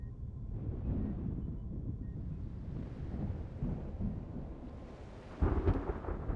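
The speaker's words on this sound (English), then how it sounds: "The storm is imminent." Thunderstorm in the video game Reverse: 1999: a long, low rumble of thunder with rain and wind beneath it, then a sharper, louder crack near the end.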